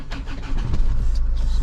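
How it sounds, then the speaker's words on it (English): A Land Rover Freelander 2 engine cranks and catches, a loud close burst of starter whirr turning into a running idle within a couple of seconds. "I'm gonna try and start the engine now"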